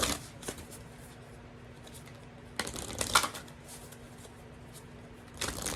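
A deck of animal oracle cards being shuffled nearby, with a few quick riffling bursts separated by quieter pauses and no talking.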